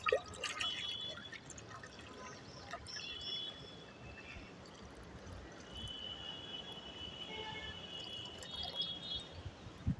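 Water runs and trickles into a container being filled, a faint, steady splashing flow with a few brief drips and faint tonal ringing over it, no voices.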